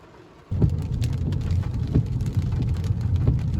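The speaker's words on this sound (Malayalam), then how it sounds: "മഴ നന്നായിട്ട് മുറുകി പെയ്യുന്നുണ്ട് ഇപ്പോൾ." Heavy rain starts abruptly half a second in and then pours steadily and loudly, a dense hiss of drops hitting surfaces close by, with no voices.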